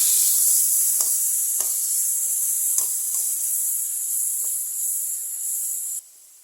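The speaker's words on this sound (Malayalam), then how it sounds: "എണ്ണ നന്നായിട്ട് ചൂടായി വരുമ്പോൾ ഇതിലേക്ക് ഒരു 2 തക്കാളി അരിഞ്ഞത് കൊടുക്കാം." Two chopped tomatoes with curry leaves sauteing in hot oil for sambar, a bright continuous hiss with a few soft spatters and pops, steady and close, ending abruptly near the end.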